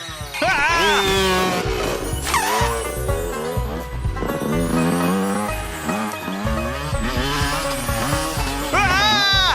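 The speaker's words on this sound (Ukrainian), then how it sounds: "Мотоцикл Фредді нас доганяй!" In a cartoon chase, vehicle engine whines, squealing tires and skidding sweep up and down as a motorcycle pursues, with a crash-like thud midway and a brief character voice among the effects.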